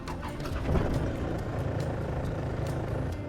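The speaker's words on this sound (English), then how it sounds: "Turn the key, let the fuel pump run for a few seconds." Cummins IST 170 diesel engine in a Dodge Power Wagon cranks and settles into a low, rumbling idle, heard close and steady with no one talking.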